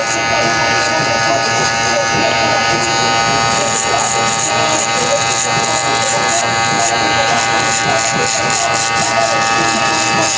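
Electric hair clippers buzz loudly and continuously up close, cutting a low fade haircut with the guard closed. The dense whine holds steady throughout.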